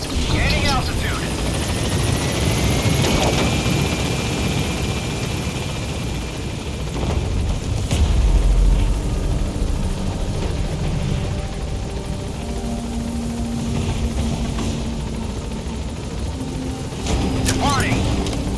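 The Pequod helicopter departs in Metal Gear Solid V, a loud continuous rotor roar holding steady throughout, layered with game radio voices and music.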